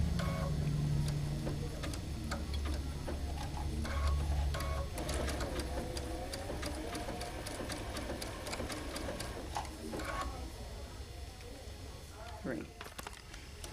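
Sewing machine stitching along the folded edge of a quilt block, a steady, close mechanical whir with rapid ticking needle strokes running throughout, with a voice talking over it.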